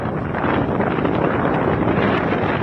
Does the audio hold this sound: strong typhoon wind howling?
yes